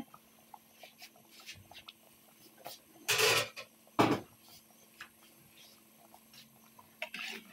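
A metal lid clatters twice onto a cooking pot holding goat head meat and chickpea dal, two sharp clanks close by against faint kitchen rustling.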